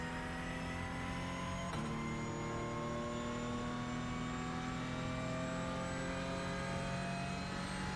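A Porsche Cup race car in iRacing at Mount Panorama Bathurst, its engine droning loud and steady as it climbs through the gears, pitch rising with one quick shift break early on.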